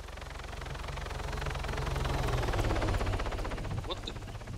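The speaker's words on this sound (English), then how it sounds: "That was a close flyby." An aircraft flies close by in the Arma 3 video game, a droning engine roar that swells to a peak and then fades slightly, with voices present.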